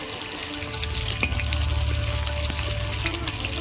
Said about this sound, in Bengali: আমুদি মাসের পকোড়াগুলো কত সুন্দর ভাজা হচ্ছে